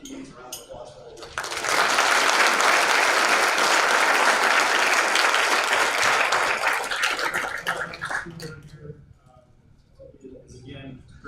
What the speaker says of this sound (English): I think he needs a round of applause for all of